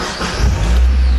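A Mazda Miata engine with stock exhaust cranks and catches, then settles into a loud, steady low idle right close by.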